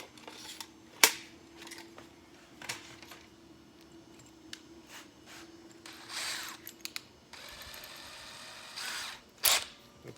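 A 7/32-inch drill bit bores a clearance hole through a part being fastened. Several short bursts of the power drill whir at a fairly quiet level, with gaps of quieter handling between them and no talking.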